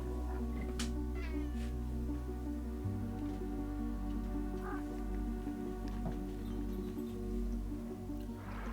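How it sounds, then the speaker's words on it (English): A cat meows in the video game Stray, the calls rising over a steady, layered tonal backdrop that shifts partway through. "Playing as a little kitty cat."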